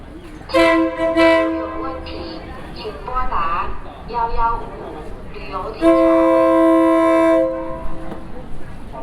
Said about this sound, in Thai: รถไฟมากัน